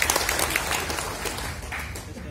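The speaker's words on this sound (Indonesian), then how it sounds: "Sebagai aplaus untuk Bung Roni yang sudah hadir pada hari ini." Applause at an organisation meeting, honouring a member in attendance: a dense, steady wash of clapping from a crowd indoors, lasting about two seconds, with some voices mixed in.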